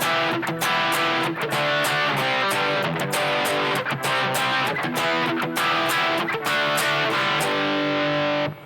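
Distorted electric guitar plays riffs from a song: loud, close strummed chords with crunchy overdrive in a steady rhythm, alone with no talking.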